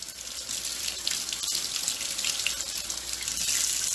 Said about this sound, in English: So let's kind of rinse it a little bit.